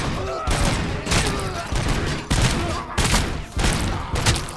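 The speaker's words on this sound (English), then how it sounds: "Oh, he's already shooting." Gunfire in the video game Robocop Rogue City, several loud bursts of rapid shots in quick succession with brief gaps between them, up close.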